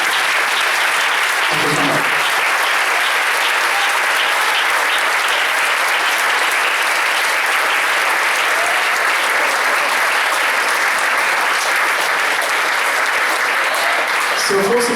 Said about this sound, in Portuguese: As palmas do louvor, Senhor.